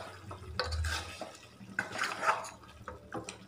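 A spoon stirs chicken masala in a pan after fried onion seasoning is poured in, giving irregular scraping and clattering against the metal with wet, sloppy movement, close by and without talk.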